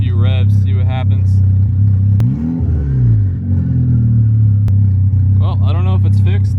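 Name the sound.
tuned car engine revving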